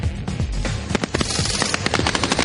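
Rapid bursts of patrol gunfire as troops lay down fire on the enemy during a contact drill, sharp cracks loud and close, firing continuously with dense overlapping shots.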